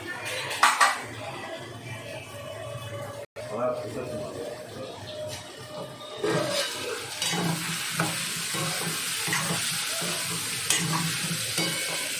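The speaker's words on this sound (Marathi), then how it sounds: "व्यवस्थित परतून घ्यायचं मस्तपैकी" Vegetables being stirred and sautéed in a pan, steady sizzle with clattering spatula scrapes and metal clinks against the pan, while a person talks over it.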